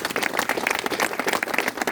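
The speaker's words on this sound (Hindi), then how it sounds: "तो एक बार इन लोगों के लिए भी ताली बजा दीजिए।" Brief burst of audience applause at an Indian business seminar, a close, choppy patter of many hands clapping for about two seconds with no voices over it.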